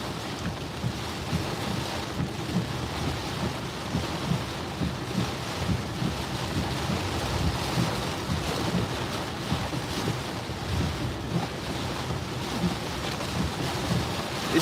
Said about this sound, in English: It is raining like a motherfucker right now.